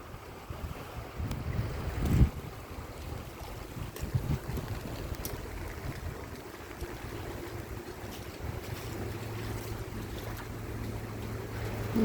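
Heavy rain in Kuban, southern Russia, in January sends streams of water rushing everywhere, a continuous broad wash with wind buffeting the microphone and a few bumps and knocks.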